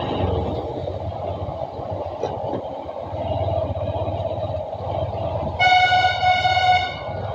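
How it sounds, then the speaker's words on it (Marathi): A truck gives a bright, multi-tone musical horn blast for just over a second near the end, loud and close, following steady engine and road rumble near a railway crossing. "ट्विंग ट्विंग हॉर्न कसा आहे गाईच ट्रकचा"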